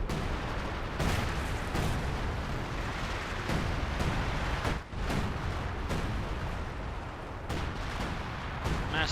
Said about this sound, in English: Massive barrage there, kicking up a lot of dirt.